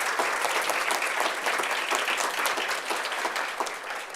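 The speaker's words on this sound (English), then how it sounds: "So round of applause for that." An audience claps loudly and continuously at a Wichita State University student government inauguration ceremony, a dense, close wash of applause that holds steady from start to finish.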